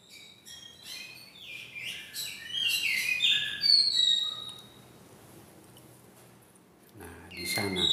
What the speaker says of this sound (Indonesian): di sana ada burung yang lagi makan juga teman-teman